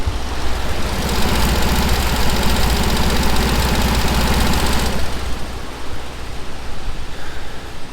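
A 1979 VW Super Beetle with fuel injection idles loudly and close by, a steady rumbling with knocking pulses that drops to a quieter, rougher idle about two-thirds of the way through.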